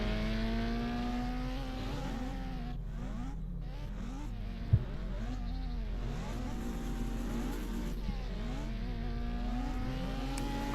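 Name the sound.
Renault race car driving an autocross course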